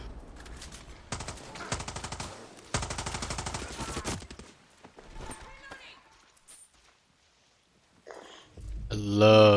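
Rapid bursts of M1 Garand rifle fire in the video game Far Cry 6, loud and close, two dense volleys followed by quieter scattered shots and a swelling rumble at the end.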